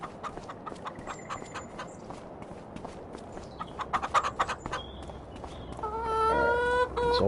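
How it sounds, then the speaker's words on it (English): Chickens and a rooster in the Farming Simulator 25 farm game cluck in scattered bursts over a steady background murmur, with a sustained tonal hum rising near the end. "Look at all these little chickens."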